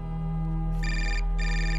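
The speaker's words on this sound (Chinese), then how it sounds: "电话来了吧？" A telephone rings in a quiet indoor setting during a crime drama, two clear electronic ringing bursts separated by a short pause, loud and close over a steady low hum.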